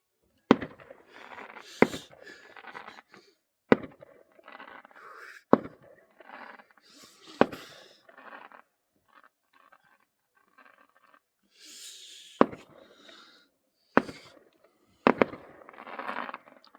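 Fireworks burst over Łaszczyn in sharp single and double shots, spaced irregularly, with crackling tails and rumbling between blasts outdoors at night.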